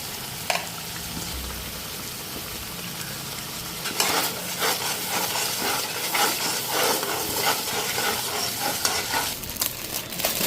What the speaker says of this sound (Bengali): এদিকে মশলা ফ্রাই হয়ে গেছে, চানাটা আর আলুটা দিয়ে দিলাম।